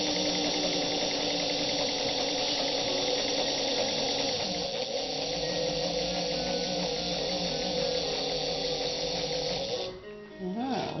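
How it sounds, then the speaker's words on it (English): A sewing machine runs steadily on a pleated V-belt drive, making a dense, continuous whirring hum with a rhythmic flutter. The motor slows and winds down with a brief dip near the end. "What you're hearing is the sound of this pleated V-belt, which gives a lot of traction to the machine."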